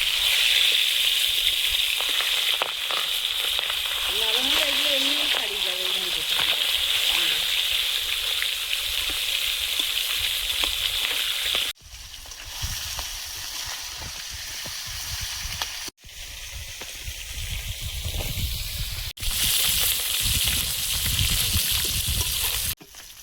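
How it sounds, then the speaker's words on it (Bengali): Catla fish heads fry hard in a pan of oil with a dense, steady, rain-like sizzle. It cuts off abruptly a few times and resumes, with a brief murmur of voice early on. "মাথাটা ভালো করে কড়া করে ভেজে নেবে"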